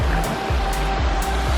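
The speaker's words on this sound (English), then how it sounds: "This was the waterfall we've been searching for." A forest waterfall gives a steady, broad rushing wash of falling water, close and continuous, with a few soft rhythmic low thumps beneath the roar.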